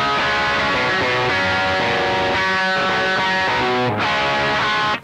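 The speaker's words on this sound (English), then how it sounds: "Just basic distortion." An electric guitar played through a 1960s Vox Tone Bender Mk3 fuzz pedal gives out loud, thick, sustained distorted chords for about five seconds and then cuts off abruptly at the end.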